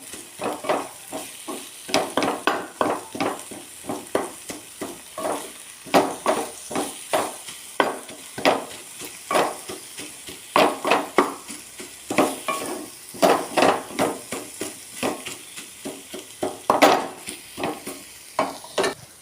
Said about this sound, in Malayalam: ഈ തക്കാളി ഈ ഉള്ളിയോട് നമുക്കൊന്ന് ഉടച്ച് ചേർത്ത് കൊടുക്കാം.